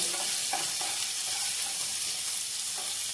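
Onions fry with urad dal and chana dal in a pan over medium-low flame, a steady close sizzle broken by faint scrapes of stirring.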